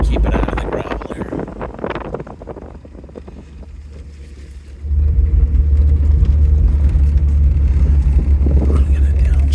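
A 1985 Dodge Omni GLH Turbo on narrowing country roads, downshifting into first: a loud, steady low engine drone with wind rush that grows heavier and louder halfway through.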